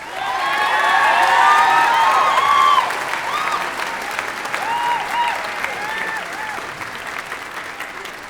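Applause from a school band concert audience welcoming an alto saxophone soloist, a dense steady wash of many hands with some cheering, loudest at first and then tapering to a lighter patter, with voices mixed in.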